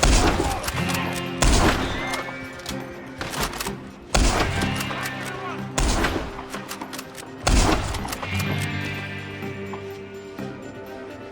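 Gunfire in Red Dead Redemption 2: several loud, sharp shots at irregular intervals, each with a booming tail, over a continuous game soundscape.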